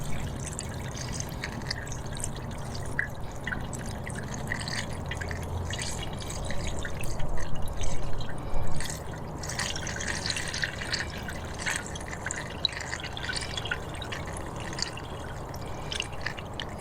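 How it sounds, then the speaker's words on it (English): Engine oil poured from a bottle straight into the crankcase of a 2012 Hyundai Elantra, a continuous gurgling, glugging flow that runs steadily for the whole stretch, swelling briefly midway, with no talk over it. "we're gonna pour it in there straight into the crankcase"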